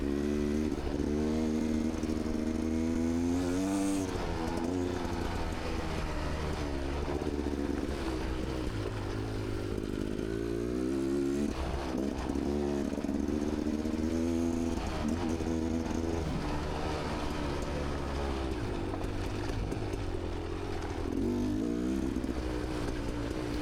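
A Beta X-Trainer dirt bike engine drones and revs continuously as it rides a trail loop and pushes into berms, loud and close throughout with no talking.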